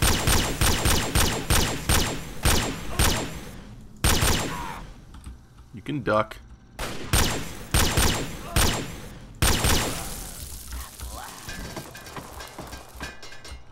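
Gunfire in Fallout 3: rapid loud bursts of shots in quick clusters with short gaps, sharp close cracks repeating across the span, broken by a brief quieter stretch of clattering, while a voice speaks briefly.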